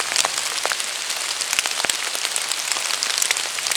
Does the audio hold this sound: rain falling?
yes